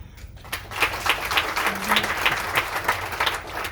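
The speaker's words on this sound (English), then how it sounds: "Those are pity claps." Sparse, half-hearted applause from a small live comedy-panel audience, a thin scattering of individual claps with audible gaps and uneven rhythm, moderately close and never building into a full ovation.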